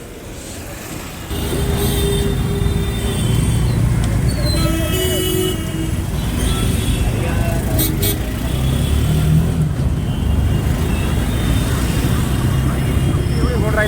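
Auto rickshaws and e-rickshaws move through busy city street traffic, making a loud, continuous engine drone and road rumble with occasional horn-like tones, while voices talk over it.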